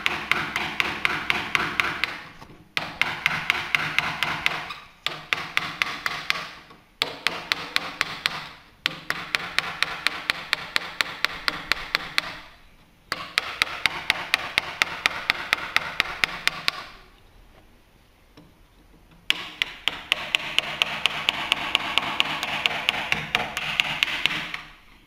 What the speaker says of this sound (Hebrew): זה לא יקרה במכה ראשונה. לאט לאט עד שמגלפים את כל העומק הרצוי.